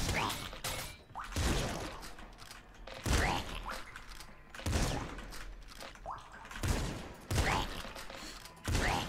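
Repeated shotgun blasts from the Nuclear Throne video game, a series of loud, sharp bursts spaced every second or two, each with a brief rattling tail, over busy game noise.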